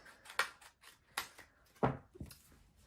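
Scissors snipping through card for a handmade thank-you card, a handful of separate crisp cuts close by and fairly quiet, with no talking.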